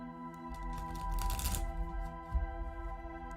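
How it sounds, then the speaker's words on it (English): Playing cards are shuffled in a quick riffle that builds to a dense rustling burst near the middle, over a steady background hum, with a small knock afterward. "Those were poor shuffling skills."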